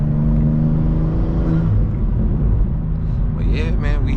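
BMW G87 M2 in M2 mode on the highway, engine droning loudly and steadily at close range with a brief rise and fall in pitch, other road noise and a voice faint toward the end.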